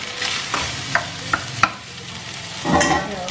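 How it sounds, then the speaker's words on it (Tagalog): Sisig frying in a pan, a steady sizzle broken by several sharp clicks of a utensil scraping and stirring, then a louder surge of hissing near the end. "i-fry ko na natin siya"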